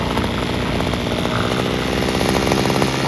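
Small two-stroke Homelite string trimmer engine running at idle after an idle-screw adjustment, a steady buzzing putter held close and loud throughout.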